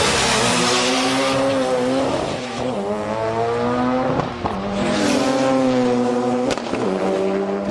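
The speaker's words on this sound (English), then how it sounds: "Red Zone also brought this R32 Skyline GTST to the meet." A Nissan R32 Skyline GTST with a stroked 2.4-litre RB20 engine and modified T04R turbo runs at a street drag meet, its loud revving engine climbing through gears with rising harmonics, breaks between shifts and brief tire noise, without talk.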